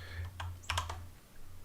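Typing on a computer keyboard during a live programming session: a few scattered key clicks and one quick cluster of taps, close and fairly quiet over a low steady hum.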